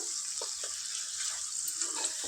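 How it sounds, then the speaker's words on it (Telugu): Ginger garlic paste fries in a pan for a chicken curry, giving a steady, close hiss of sizzling oil with a few soft pops and no voices. "ఇందులోనే ఒక వన్ స్పూను అల్లం వెల్లుల్లి పేస్ట్ వేసుకుందాం వేసుకొని ఇది ఒక టూ మినిట్స్ ఇట్లా ఫ్రై చేసుకుందాం"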